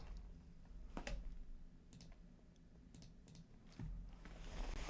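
Computer keyboard keys being struck, a few sharp scattered clicks spread over a few seconds, faint and close against a low steady background hum, with no talking.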